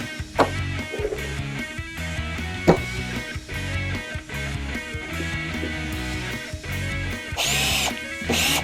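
A power drill bores pilot holes into poplar wood for custom cabinet doors in a garage workshop, with several short whirring bursts broken by sharp clunks and handling knocks, and a final louder high whine near the end.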